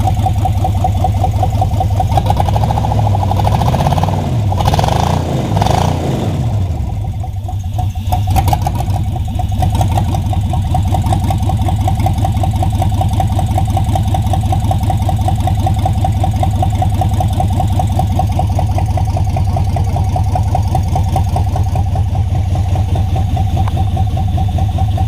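A V8 swapped into a Datsun 720 pickup idles steadily just after its first startup, a loud, even, continuous rumble with a brief rough stumble early on before settling into a smooth, constant idle.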